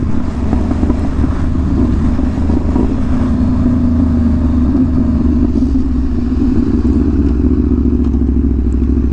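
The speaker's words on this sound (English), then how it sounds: "I love the pops on this bike." An MV Agusta Rush motorcycle engine rumbles close and loud, its exhaust throbbing, with scattered crackling pops and clattering bursts over a heavy, steady low growl.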